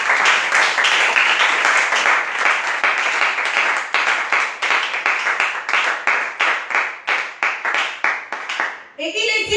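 Church congregation applauding loudly: dense, close rhythmic clapping that settles into a strong steady beat, with voices briefly at the end.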